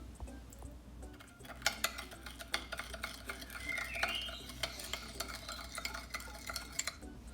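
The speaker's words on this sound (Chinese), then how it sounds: "我们拿细砂糖加入柠檬汁，" A spoon stirs caster sugar into lemon juice for a lemon drizzle cake glaze, with light, irregular clinks and scrapes against the bowl that come close and quiet and keep on throughout, without speech.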